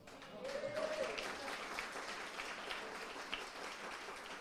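A lecture audience claps and applauds in a hall, a steady moderate wash of clapping for a few seconds.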